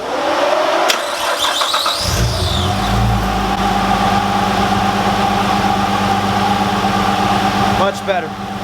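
A Nissan R33 with an RB25 engine, alternator belt freshly tightened, cranks and catches at about two seconds, then settles into a steady, loud idle with a faint high whine riding over the engine hum.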